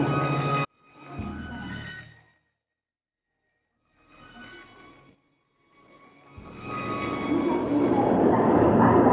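Japanese bullet train running, a broad rushing roar that comes and goes in bursts with quiet gaps, then swells into a sustained loud rumble toward the end, with no talking.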